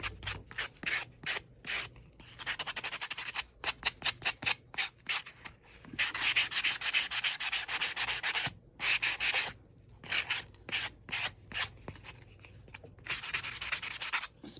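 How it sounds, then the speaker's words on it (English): Handmade paper edges being rubbed and shaped to look weathered, heard as close, loud bursts of dry scratchy rubbing, some quick repeated strokes and some longer sustained passes, with short pauses between. "I'm going to go around the edges just to kind of shape this and rub some of that edging off"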